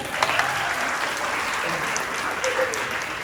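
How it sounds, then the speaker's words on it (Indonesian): Steady applause from a gathering of santri, Islamic boarding school students, at a religious study session, a dense continuous patter of many hands lasting a few seconds with faint crowd murmur. "tepuk tangan buat santri"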